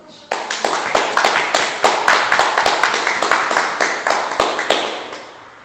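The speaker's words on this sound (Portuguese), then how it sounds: "Você pode dar um aplauso a Jesus?" Church congregation clapping in sharp, fairly regular bursts that start suddenly and keep a rhythmic, ringing pattern in a reverberant hall before tapering off near the end.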